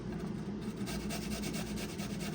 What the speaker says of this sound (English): We're gonna microplane some garlic.